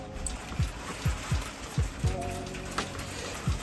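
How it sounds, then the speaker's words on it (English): Winter hail is heard outdoors from an indoor spot, scattered hard taps landing in a loose, irregular rhythm over a steady faint hiss, with no voices. "That is hail you can hear"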